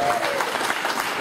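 Arsenal Indonesia supporters at a press event give a steady, loud burst of applause, a dense wash of clapping, with a voice faintly audible under it.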